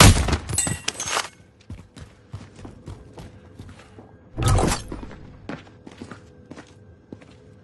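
In the Call of Duty Warzone video game, gunfire aimed at the player comes as a loud burst of shots at the start and another burst midway, with scattered thuds and impacts in between.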